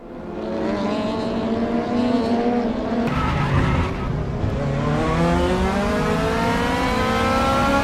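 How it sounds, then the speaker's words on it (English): DTM race car in a 2020 series race locks its brakes hard, tires skidding and squealing over loud, steady engine noise, the pitch sweeping as the car slows and then pulls away. "locked the brakes up hard right there"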